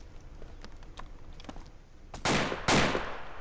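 Distant gunfire sounds in the military shooter game ArmA 2. Scattered faint shots are followed by two loud, close bursts near the end.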